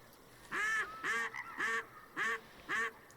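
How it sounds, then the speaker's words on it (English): Ducks fly over in the hunting video game Way of the Hunter, set in Transylvania, giving five loud, evenly spaced honking quacks close overhead against quiet outdoor ambience. "I didn't even see them ducks fly over until they're like right above us"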